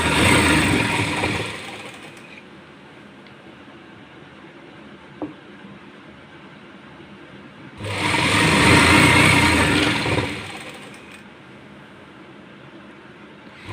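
A sewing machine stitching a loose palazzo, with two loud, close bursts of rapid whirring and clattering separated by a quieter stretch of low hum and a single small click.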